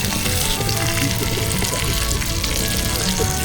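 Trout frying hot in a pan outdoors on a frozen lake while ice fishing, a dense, steady sizzle and crackle with no pauses, close and loud throughout.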